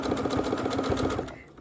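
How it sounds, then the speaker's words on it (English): A sewing machine stitches a double-folded rolled hem on felted wool blanket-scarf fabric, with a fast, even run of close stitching bursts that cuts off abruptly just before the end. "As you can see right here, we're just roll hemming it."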